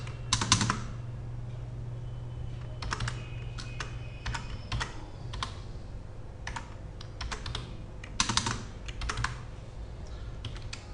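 Typing on a computer keyboard while entering equations in Word 2003, with irregular bursts of clicky keystrokes separated by pauses, close and alone over a low hum.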